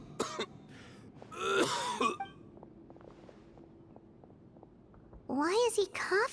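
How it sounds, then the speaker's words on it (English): A character in Genshin Impact coughs in harsh, throaty bursts, first near the start and again near the end, with quiet stretches between them. "Why is he coughing so?"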